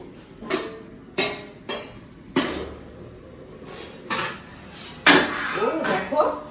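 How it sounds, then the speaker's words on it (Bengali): In a Bengali home kitchen, a metal lid comes off a cooking pot of leafy greens with bori: a series of sharp metallic clanks and scrapes, spaced about a second apart, ending in a louder clatter of pot handling. "ঢাকাটা খুলে দেখি কেমন হয়েছে"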